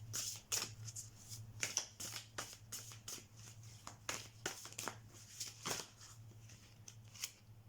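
A tarot card deck with a violet back is shuffled by hand close up, a quiet, steady run of papery riffles and slaps in uneven rhythm over a low background hum.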